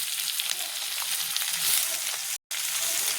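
Two large tomatoes sizzling in a hot frying pan, a steady close hiss and crackle of frying that cuts out for an instant before resuming.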